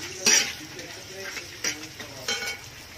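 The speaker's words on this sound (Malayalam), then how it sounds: "തേങ്ങാക്കൊത്തുകൊണ്ട് നല്ല അടിപൊളിയായിട്ട് ഇങ്ങനെ വഴറ്റിക്കൊണ്ടിരിക്കുകയാണ് കേട്ടോ." Coconut pieces sautéed in a pan over a wood-fired stove, with soft sizzling and a few sharp scrapes of a spoon stirring against the pan.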